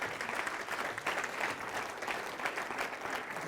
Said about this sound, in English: Huge round of applause, please, for our panel